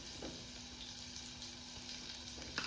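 Spice masala fries in oil for a chicken masala, giving a faint, even sizzle with a low steady hum beneath it and a small clink near the end, with no voices.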